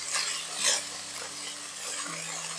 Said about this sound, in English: Sear meat in one layer around 3 minutes on each side.